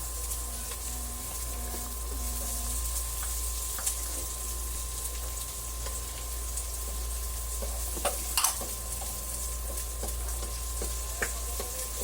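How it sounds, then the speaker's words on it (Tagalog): Onion and garlic sautéing in a pan, a steady close sizzle of frying with occasional stirring clicks and scrapes, alone without talk. "Magigisa naman po tayo ng sibuyas, bawang at kamatis."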